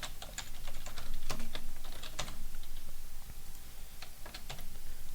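Steady typing on a computer keyboard while entering website service details, with clustered bursts of clicking keys, brief pauses between runs, close and moderately loud, with no talk.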